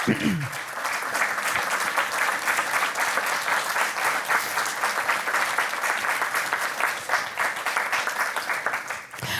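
Sustained, even applause from an audience at a school board meeting honoring students who graduated with distinction, dense clapping holding steady throughout before tapering at the close.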